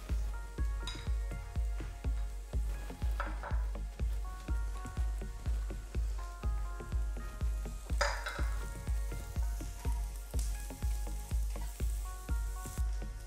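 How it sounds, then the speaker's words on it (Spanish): Chopped onion, garlic and ginger sauté in a pan with a steady, regular beat of spoon strokes scraping through the gentle sizzle, close and moderately loud, with no talking. "Cuando ya hemos sofreído durante unos 3-4 minutos la cebolla, el ajo y el jengibre"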